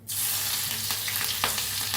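Green chillies drop into hot oil already tempered with mustard seeds and asafoetida, setting off an immediate loud sizzle that crackles on steadily with a few sharp pops.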